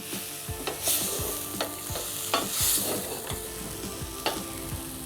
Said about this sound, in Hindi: अब आखिर में ब्रोकली। इसे बस आधे मिनट तक हमें सौते करना है